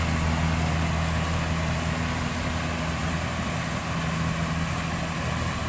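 A small Kubota rice harvester engine runs steadily at a constant drone, a loud, even low hum with a dense mechanical hiss and no speech over it.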